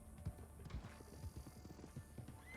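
Horse hooves clip-clopping at a steady trot in the Western roleplay game RedM, a brisk even rhythm of hoofbeats carrying two deputies on one horse, moderately close over a noisy outdoor background.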